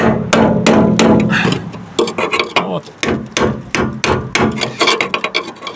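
Repeated sharp metallic blows strike at an uneven rhythm, close and loud, hacking into the metal fuel tank of a Dacia Nova car, with a brief word spoken.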